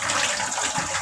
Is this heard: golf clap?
no